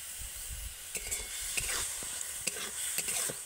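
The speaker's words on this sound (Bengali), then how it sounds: "এইবারে গুড়টা দিয়ে আমি নারকলটাকে নাড়তে থাকবো।" Grated coconut and date palm jaggery are stirred in a hot pan, a soft continuous sizzle broken by repeated close scraping strokes of the spoon against the pan.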